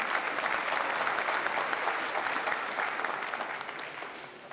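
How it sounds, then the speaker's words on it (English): Sustained audience applause at a high school commencement ceremony, a broad even wash of many hands clapping that fades slightly toward the end. "give him a clap"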